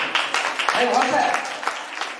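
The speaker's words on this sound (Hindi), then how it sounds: "बार जोरदार ताली बजा दो।" An audience at a Jain religious ceremony claps loudly together, a dense burst of applause that carries through the whole moment.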